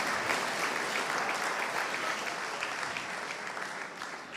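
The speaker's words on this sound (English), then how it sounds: "A big applause for Francesco." A crowd at a pizza awards ceremony in Milan gives loud, continuous applause, a dense wash of many hands clapping that stays strong throughout and only slightly eases toward the end.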